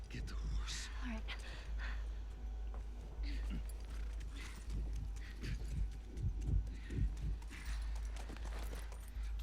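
Horse hooves in a video game, clip-clopping in an uneven rhythm at moderate distance over a low rumble, with faint voices nearby.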